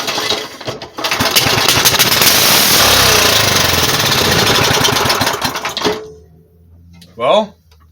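A 5hp Briggs and Stratton racing go-kart engine running with no muffler roars loud and raw for about five seconds, then cuts off; a voice follows briefly afterward.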